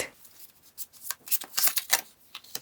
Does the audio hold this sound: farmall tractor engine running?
no